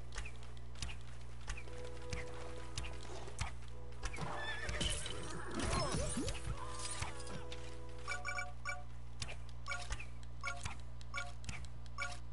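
A horse in a Lego video game whinnies and neighs in the middle of steady clip-clop hoofbeats and game effects, with no one talking.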